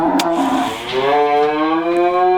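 A cow standing in a milking stanchion lets out a loud, drawn-out moo that rises in pitch and holds, very close and filling the whole stretch, with no voices over it.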